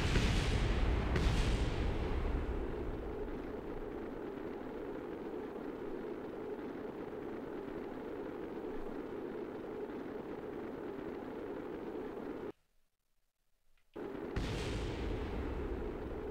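A lander crashing on the Mun in Kerbal Space Program bursts into a loud explosive roar, then settles into a long rumbling wash that cuts out briefly before another burst returns.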